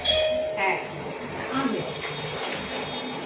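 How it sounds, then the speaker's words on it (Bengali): A doorbell chimes once near the start of a home recording, a bright ringing tone that fades within a second, followed by faint indoor background sounds. "কলিং বেল বাজার সাথে সাথে গিয়ে দরজা খুললাম"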